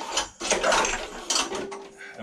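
Pull cord of a lawnmower engine, spark plug removed and water inside, yanked over in a few quick ratcheting whirring bursts, close up and moderately loud.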